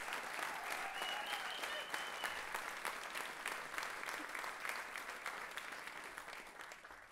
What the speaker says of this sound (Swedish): Håll i applåden för dessa fantastiska grabbar.